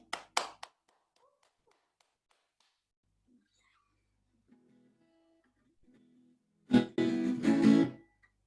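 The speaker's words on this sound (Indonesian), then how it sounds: "Kasih tepuk tangan buat Tuhan." A church congregation gives a couple of short, sharp hand claps, followed by a long quiet stretch before music swells in loudly.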